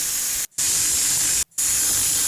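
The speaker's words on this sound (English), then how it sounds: "So let's just say steam noises" A generated steam sound effect: a loud, continuous broadband hiss, cut off cleanly twice by brief silent gaps, then resuming at the same strength with nothing else heard.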